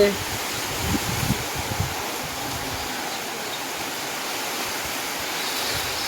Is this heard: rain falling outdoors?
yes